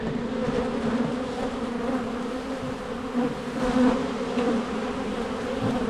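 Agitated honeybees swarming around an opened Long Langstroth hive during an inspection, a dense continuous buzz close to the microphone that swells and fades slightly as bees pass.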